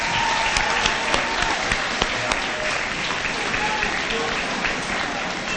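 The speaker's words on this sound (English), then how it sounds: "we'll give you some applause and some well-deserved applause" An audience applauds steadily at a school promotion ceremony honoring perfect attendance, dense even clapping throughout with a few sharper claps standing out and some voices murmuring underneath.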